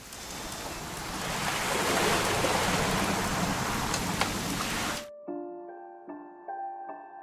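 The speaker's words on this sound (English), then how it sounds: "It's gonna rain the whole weekend," Steady, dense rain hiss in the game What Remains of Edith Finch, loud and continuous for about five seconds, then cutting off abruptly to a few soft tonal chimes.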